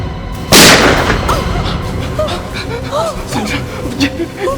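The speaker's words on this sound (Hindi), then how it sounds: "इस गोली की आवाज को सबने बाहर सुना होगा" A single loud, sharp gunshot cracks close by in a Hindi TV crime drama scene. Agitated voices and whimpering follow beneath it.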